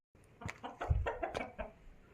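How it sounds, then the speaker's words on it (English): Chickens cluck in short bursts, close and fairly quiet, on a farm in a village in Machakos, Kenya, with no talking. "And there's also chicken on the farm."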